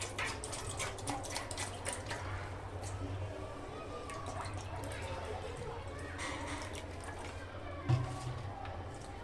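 Bowlful of water, saved from rinsing a spinach-grinding mixer and bowl, poured into a pot of spinach paneer rice; a steady, moderately loud splashing pour runs throughout with a faint background hum.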